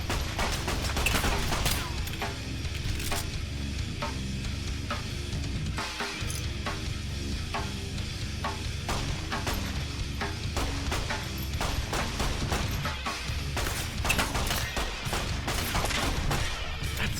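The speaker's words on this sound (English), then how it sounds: "Or mag dump into their head, hoping for crits." Gunfire in the video game Fallout: New Vegas, with rapid repeated shots and impacts in dense bursts over a continuous in-game background, with no talking.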